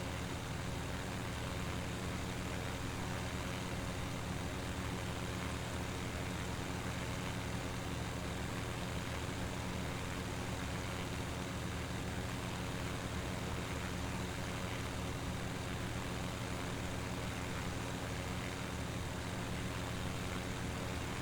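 A steady, unbroken drone from the simulated naturally aspirated 390 engine of 260 horsepower in a Pipistrel aircraft in X-Plane 11, a dense low rumble holding constant for the whole stretch without voices.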